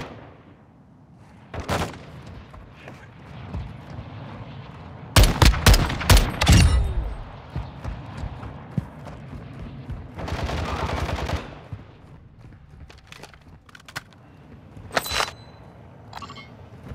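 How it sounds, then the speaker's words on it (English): Gunfire in Call of Duty MWII DMZ: sharp loud bursts of shots crack in a tight cluster, followed by a longer rattling volley and scattered single reports, with occasional shouted voices between. "Taking effective fire!"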